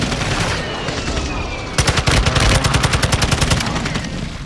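Close air support strike in Call of Duty Warzone on Ashika Island: after a busy stretch, a loud, rapid stream of heavy gunfire begins, sustained rhythmic bursts pounding for several seconds.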